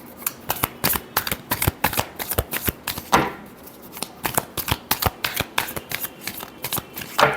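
Tarot cards are shuffled close up, with quick crisp riffling flicks falling in an irregular rhythm and one longer riffle midway; no speech over them.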